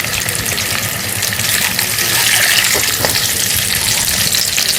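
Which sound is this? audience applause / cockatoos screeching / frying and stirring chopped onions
frying and stirring chopped onions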